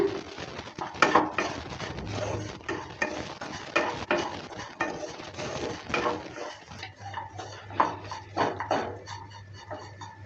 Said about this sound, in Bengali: জলটা দেওয়ার পর ভালো করে নেড়ে চেড়ে নিচ্ছে